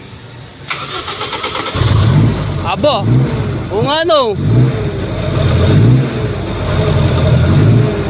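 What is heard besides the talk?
V8 car engine starting and revving through exhaust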